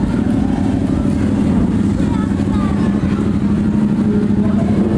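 A CFMOTO 450SR motorcycle engine idling or running steadily close by, a continuous low rumble with faint voices in the background.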